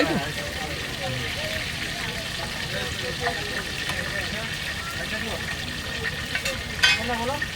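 Octopus and crab deep frying in hot oil at a street food stall, a steady crackling sizzle running throughout with voices and background chatter mixed over it.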